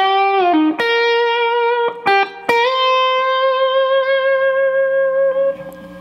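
An overdriven electric guitar plays the opening lick of a solo, a few sustained singing notes with a bend and quick note changes, clear and close with no talking.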